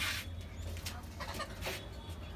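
A native deshi hen kept in a rooftop cage gives a few soft, short clucks. The sound is faint and distant over a low background hum.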